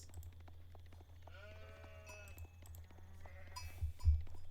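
Sheep bleat in the Age of Empires strategy game, a few wavering cries close together over a steady low hum, with a louder thump near the end.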